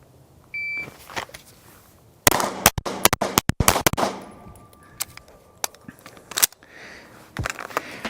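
Gunshots ring out during an Accelerator shooting drill: a shot timer beeps, then a rapid string of sharp, loud reports follows. A short pause comes before a few more cracks, with faint outdoor background between.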